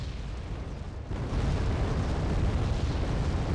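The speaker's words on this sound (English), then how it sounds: "Another combined artillery strike is going to get the red team a few more points" An artillery strike in Wargame: Red Dragon lands as deep, rumbling explosions, building into a sustained heavy roar of blasts after a brief quieter start.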